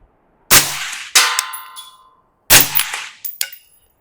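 Two pairs of sharp, loud suppressed rifle reports, a Rhino suppressor then a Vanish, each a crack followed by a second shot with a ringing tail, spaced about two seconds apart with no talking.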